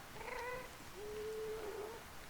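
Cat from the video game Minecraft Bedrock Edition giving two meows, a short higher one followed by a longer, drawn-out lower one, faint against soft background game noise.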